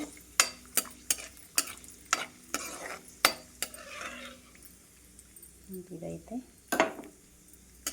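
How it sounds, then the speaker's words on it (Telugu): Cashews frying in ghee for rava laddu, soft sizzling under repeated sharp clinks of a spoon stirring against the pan, with a voice talking briefly partway through. "జీడిపప్పు అయితే వేగుతుంది చూసారా"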